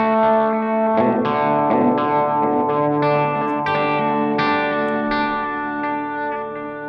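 An electric guitar runs through a Gecko echo pedal voiced like an Echoplex tape echo, its sustained chords and single notes ringing out with repeating, trailing echoes in a steady, loud, unbroken stream.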